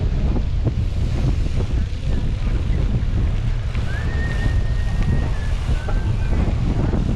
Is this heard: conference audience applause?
no